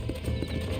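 A stallion's hooves clip-clop in a quick, close, steady rhythm in the Red Dead Redemption video game, heard for under a second.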